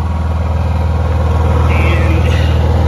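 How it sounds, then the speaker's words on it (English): Propane-powered home standby generator running, a loud, steady low engine drone with a regular throbbing pulse, heard close and continuous. "I just switched the transfer panel, so I'm running on generator now"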